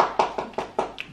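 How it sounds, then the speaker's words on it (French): One person claps hands a handful of times, five or six close, fairly sharp claps in an irregular rhythm, heard alone. "Il m'applaudit."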